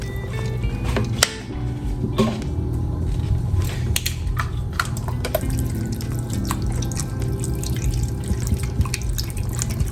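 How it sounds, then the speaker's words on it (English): Water runs and drips steadily into a cooking pot of turkey wings, filling it to cover them, over a constant low background hum, with a few sharper splashes and clinks along the way. "We're gonna add water until we cover the turkey wings"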